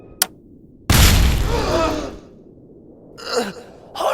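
An ID chip detonates in a Transformers: Robots in Disguise cartoon, giving a sudden loud booming burst that rumbles and fades over about a second, after a sharp click and before brief voice-like sounds.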